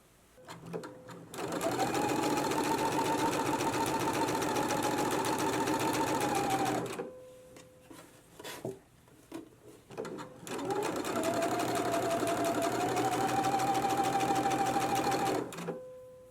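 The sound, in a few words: sewing machine stitching test rows of shirring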